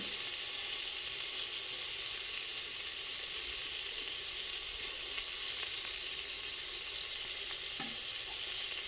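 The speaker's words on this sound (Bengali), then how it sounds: "এবারে মশলাটা সুন্দরভাবে কষিয়ে করে নেব" Spice paste with turmeric and salt frying in a pressure cooker, giving a dense, even sizzle that holds steady throughout, close by with no talk.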